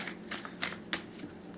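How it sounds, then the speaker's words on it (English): Tarot cards being overhand shuffled, with several soft riffling bursts of cards sliding against each other, close and fairly quiet. "So we're just going to do overhand shuffles."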